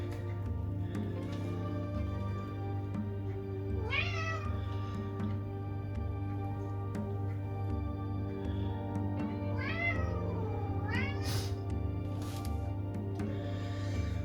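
A cat meows several times, drawn-out rising and falling cries spaced across a steady mechanical hum.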